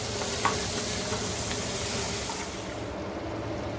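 A sauce with basil stirred in a pan for chicken baked penne pasta gives a continuous soft sizzle with light stirring scrapes, close and steady, with no voices.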